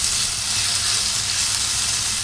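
Chili and garlic paste sizzles in a hot pan on medium-high heat, a steady bright frying hiss throughout, close and without talk.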